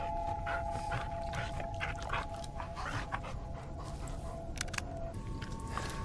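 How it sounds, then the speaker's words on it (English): A dog panting in a forest horror video game, with quick, steady breaths and occasional soft whimpers over a constant background hum, fairly quiet and heard alone. "el perro está meta a llorar"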